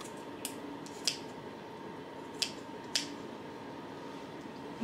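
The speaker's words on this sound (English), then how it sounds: "I'm gonna cut it with scissors." A few quiet snips of scissors at irregular intervals over a steady low hum of room noise in an apartment kitchen.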